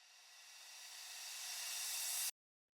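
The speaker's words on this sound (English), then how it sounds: "And then I have this little reverse crash" A reverse crash in a tech house track swells as one bright, hissy wash that rises steadily in loudness and then stops abruptly, followed by silence.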